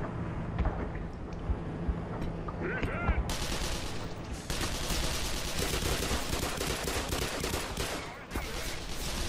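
Gunfire in the Black Mesa video game: a long, dense volley of rapid shots blasting close and loud for several seconds, preceded by scattered single reports and a brief pause near the end.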